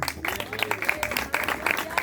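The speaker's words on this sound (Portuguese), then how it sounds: "As palmas do ao Rei Jesus" Scattered clapping from a church congregation, uneven and lively, with individual claps standing out over a soft crowd murmur.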